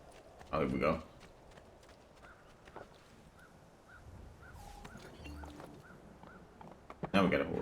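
Horse hooves clip-clop at a walk in the Assassin's Creed 2 video game, a soft, fairly distant run of light steps under game sounds and occasional louder bursts.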